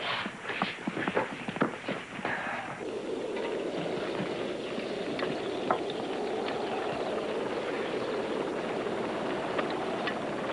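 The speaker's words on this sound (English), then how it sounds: "It's a chopper." A helicopter passes overhead as a steady rotor drone. It is preceded by a few seconds of rhythmic clopping thuds and stays moderately loud and continuous throughout.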